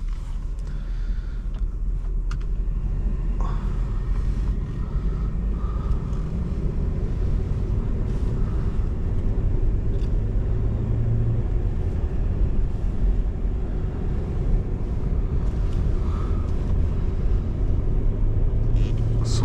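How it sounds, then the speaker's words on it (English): Low, steady engine rumble of a 2004 Mercedes-Benz ML500 V8 heard from the cabin as it sets off, soft and continuous with faint mechanical creaks over the drive. "So setting off in the ML500."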